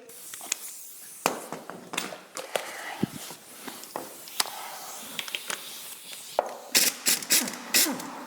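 A ratchet clicks in short bursts while the last bolt is removed on a 1967 John Deere 710 tractor being split at the final drive, with scattered metallic knocks and clanks in a quiet workshop.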